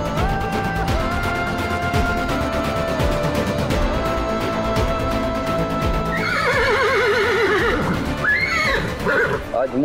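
A horse whinnies loudly in the latter part, with rising and falling neighs following a stretch of hoof clatter and busy background sound; voices are present.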